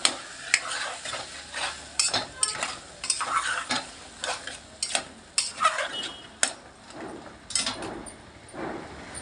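Cluster beans are stirred in a pan for curry, repeated close scraping and clattering strokes of a spoon over a light sizzle, coming in uneven bursts.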